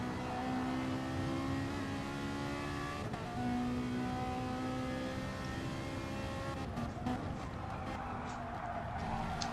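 Sim racing car engine, held under throttle with steady rising and falling harmonic whine, then lifting off and reapplying, rough and continuous with a short tyre squeal near the end.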